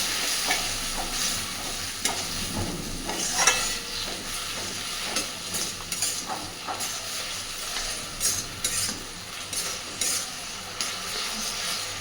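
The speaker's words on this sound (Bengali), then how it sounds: "সামান্য একটু জল দিয়ে খুব ভালোভাবে সব কিছু মিশিয়ে নেব" Soybean curry with a little water being stirred in a pan: scraping strokes and a soft sizzle repeat at an uneven pace, close by, with no one speaking.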